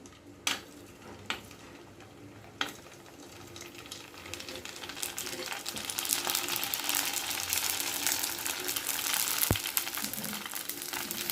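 Poori dropped into hot oil in a kadai, a few faint clinks at first, then a growing bubbling sizzle that stays steady and close, with a sharp tap near the end.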